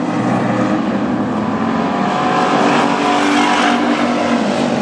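WISSOTA street stock race cars roaring around North Central Speedway, a dense, loud, continuous engine drone from the pack with no break and no voices.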